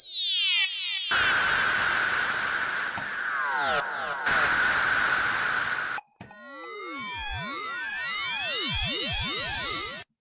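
Factory patch from the Native Instruments FM8 synthesizer, a loud buzzy laser-like tone with falling sweeps, a brief gap near the middle, then dense criss-crossing rising and diving zaps, no talking.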